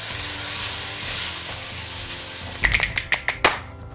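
Food fries in vegetable oil in a pan on the stove, giving a steady close sizzle, then a quick run of about five sharp crackling pops near the end.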